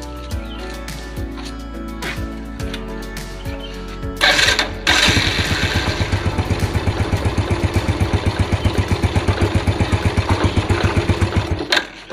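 A Yamaha Jupiter Z or Vega motorcycle engine cranks a few times, catches with a burst, then settles into a steady, rapid idle chugging close by before cutting off.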